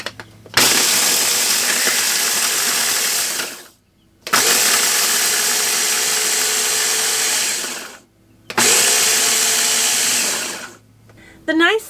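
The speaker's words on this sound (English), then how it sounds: "little food processor. This little thing, it might be tiny, but it is a workhorse for me. Just going to add these in and grate them up." A small food processor grinds dried bread into crumbs, running loud and steady in three long pulses separated by short pauses, with a brief fourth start at the end.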